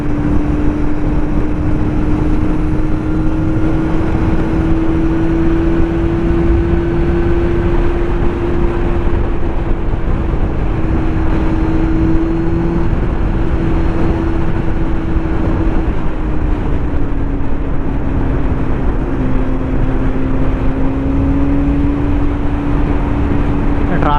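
A BMW R nineT boxer-engine motorcycle rides in city traffic, giving a loud, continuous engine drone with a steady low tone that dips slightly at times, mixed with wind rush and a rider talking.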